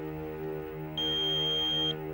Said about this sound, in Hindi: प्लीज बीप के बाद अपना मैसेज छोड़ दें